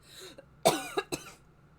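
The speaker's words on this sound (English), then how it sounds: "Yeah, because I'm going to cough." A single person coughs a couple of times in quick succession, close and fairly loud, after a short throaty breath.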